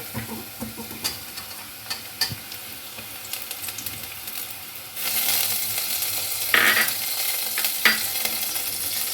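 Reddish-browned fried onions stirred with a spatula in a pan, then a louder, brighter sizzle as ginger garlic paste goes in, continuous and close, with no voices.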